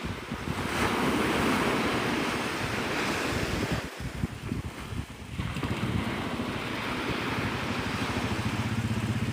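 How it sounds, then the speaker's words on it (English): Surf rolls in on Navarre Beach, Florida at sunrise, a loud continuous wash of breaking waves mixed with gusty wind buffeting the microphone, with no voices. "This is Navarre Beach, Florida."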